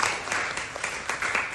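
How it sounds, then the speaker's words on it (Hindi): Audience applause at a monthly gathering of a Hindi writers' guild, a steady patter of clapping from a moderate crowd, fairly loud and even throughout. "इस बात पे तो ताली बहुत बनती है"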